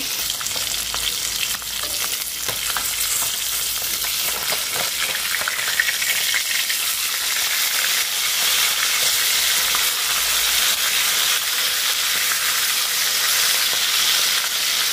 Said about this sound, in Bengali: তো এই যে মাছটা এখানে ভাজা হচ্ছে।